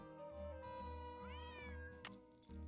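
A cat meows repeatedly in the Nancy Drew: Secret of the Old Clock video game, its rising, wavering cries standing out clearly over steady background music.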